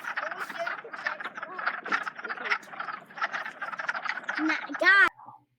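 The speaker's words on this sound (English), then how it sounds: "All these sounds that you hear are the sounds of the wood frog." Wood frogs in a vernal pool make a dense chorus of rapid, duck-like clucking croaks, loud and continuous, ending with a sharp nearby sound.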